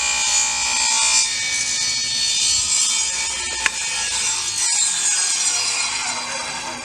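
Table saw cutting wood at an angle with a tapering jig, a steady close, loud sawing whine that runs the whole time with one sharp tick midway.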